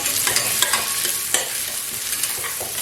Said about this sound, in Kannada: ಎರಡು ಈರುಳ್ಳಿನ ನಾನು ಸ್ವಲ್ಪ ಸಣ್ಣದಾಗಿ ಕಟ್ ಮಾಡಿ ಹಾಕ್ತಾ ಇದ್ದೀನಿ